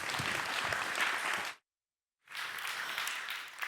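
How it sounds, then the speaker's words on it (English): Applause from a symposium audience for a presenter, steady dense clapping for about a second and a half, then a brief silent gap before the clapping resumes just as full. "Big round of applause for Nikki."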